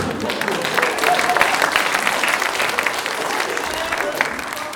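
A Polish stand-up comedy crowd breaks into loud, sustained applause, thick continuous clapping filling the room evenly for several seconds with a murmur of voices mixed in.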